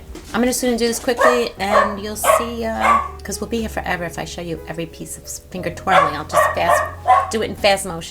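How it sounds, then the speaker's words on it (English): A dog barks in short repeated bursts off to the side, loud enough to cut through someone talking steadily up close in a home setting. "I'm sorry about the barking."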